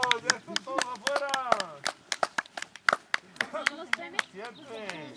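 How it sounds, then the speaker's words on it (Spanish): Children at a kids' camp clapping in quick, uneven bursts of sharp claps, mixed with loud shouting voices close by. "¡Un aplauso!"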